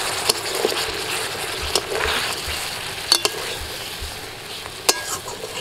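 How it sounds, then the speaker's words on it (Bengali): Paneer stirred with spices in a sizzling pan, with a little water added during cooking for a no-onion, no-garlic veg paneer biryani: a steady frying hiss runs throughout, broken by a few soft scraping and clinking stirs, with no talk. "মশলার সাথে পনিরটাকে 2 মিনিট নাড়াচাড়া করে নিয়ে ওর মধ্যে দিয়ে দিচ্ছি অল্প একটু জল।"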